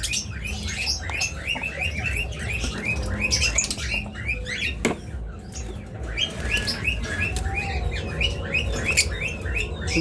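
Green opaline lovebirds chirp continuously in rapid, high-pitched bursts, a busy chattering flock close by with steady background noise beneath.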